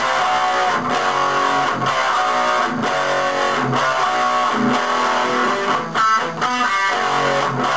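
A heavily distorted electric guitar chugs in a dense, loud wash, with a sliding phrase leading into the fuller chorus near the end.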